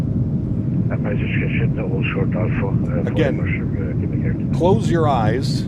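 Steady airliner cockpit drone in the PMDG 737-800 flight simulator, a United flight bound for San Francisco, holding as a continuous broadband rumble beneath someone speaking, with a brief chirping radio-like tone near the end.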